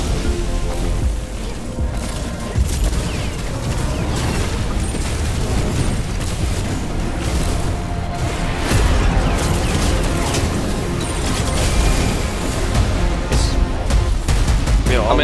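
Bombs explode in the video game Wayfinder, heavy booms and bursts layered over busy combat effects and game music for the full stretch, loud and dense without a break.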